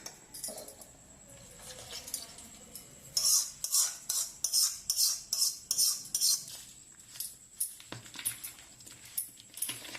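A small spoon stirs and scrapes through vakkai (karonda) pickle in a steel vessel, giving a quick run of bright clinking and scraping strokes in a steady rhythm, close and clear with no talk.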